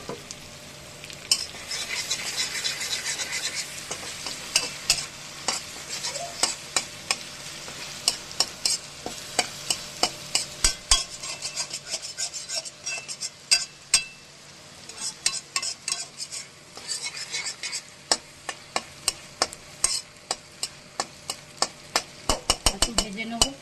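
Taro stolon (kochu loti) paste fries and sizzles in hot oil in a pan, a steady hiss broken by a long run of sharp, rhythmic scraping clicks as a spoon stirs it.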